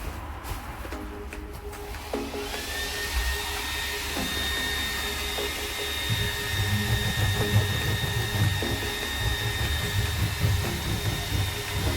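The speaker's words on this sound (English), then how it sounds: "I'm using a hairdryer because like the glue's like heat activated." Hairdryer blowing steadily close by to heat the glue of sound deadening mats in a Vauxhall Movano van conversion, a constant whine with a few knocks and no talking.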